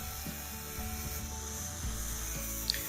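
A Makita GA4530R angle grinder cuts through protruding iron rebar sticking out of concrete, giving a steady, continuous grinding rasp with a sustained high whine, close and fairly loud throughout, with no talking.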